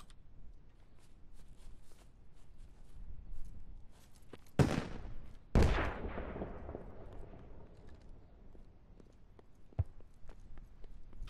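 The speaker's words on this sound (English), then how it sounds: "U.S. still firing up here." Two loud, close gunshots ring out with a long decaying echo in the military shooter Squad, amid faint scattered distant shots and a low ambient rumble, with no talking.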